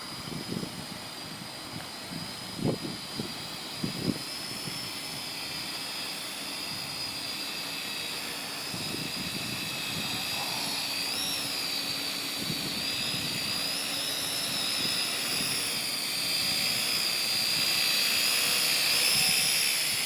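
Wltoys V636 toy drone flying and climbing outdoors, a continuous high-pitched motor whine that grows slightly louder and steadier, with a few sharp knocks near the start.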